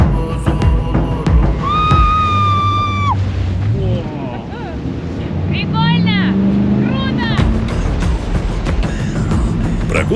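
A Hamilton jet speedboat roars steadily among mountains, a loud continuous engine and rushing water rumble with wind buffeting, while someone speaks over it.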